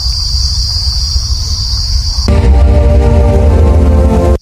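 Crickets chirp loudly and steadily in the Garh forest near Durgapur, a dense, continuous shrill trill close by, joined partway through by a louder, harsher buzzing chorus.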